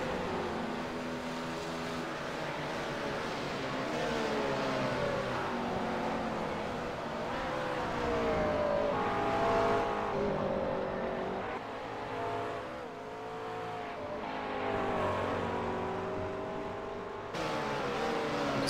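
Race cars at Spa-Francorchamps accelerate away from the pit lane during the 24-hour race, their engines giving a sustained, wavering whine that climbs and falls as they pull away, fairly distant and continuous.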